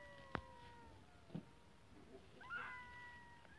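A cat gives a few short, separate meows, faint to moderate and fairly close, over a quiet background.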